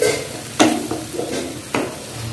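Tomato, asafoetida and ginger paste being sautéed in a pan for a no-onion, no-garlic paneer masala, with a few distinct stirring scrapes over a low steady sizzle, close and fairly loud.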